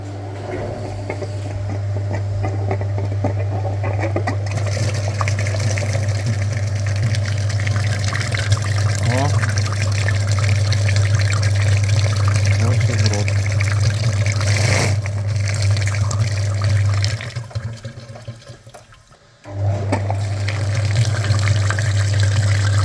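A flushing machine pumps liquid through the heater core of a Mazda CX-9, giving a loud steady motor hum with running fluid that dips briefly near the end, then resumes.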